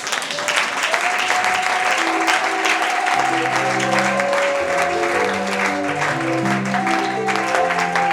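A church congregation applauding and cheering, dense sustained clapping with crowd noise over a held organ or keyboard chord progression, filling the room throughout.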